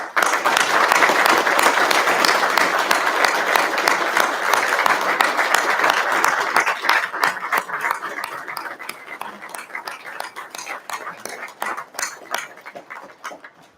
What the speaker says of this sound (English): join me in a round of applause for all your friends and family members